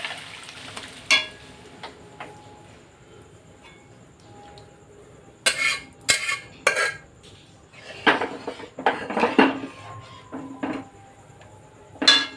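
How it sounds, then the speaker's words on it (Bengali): Hot spice tempering is tipped into boiled biuli dal with a sharp sizzle, followed by a metal spoon clinking and scraping against the pot in bursts of stirring, close and fairly loud with no talking. "এই যে ডাল সিদ্ধ হয়ে গেছে, এবার দিয়ে দিলাম আমি ফোড়ন।"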